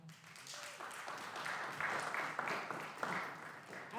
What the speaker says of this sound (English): Let's clap for our MC